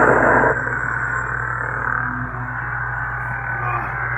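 An ID7 lightsaber hilt from Inspiria Designs running the Nebula sound font on a Crystal Focus board gives a steady, buzzing electronic hum, with a brighter burst at the start before settling into a constant drone.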